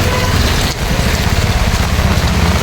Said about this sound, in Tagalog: Balik na po ang ulan.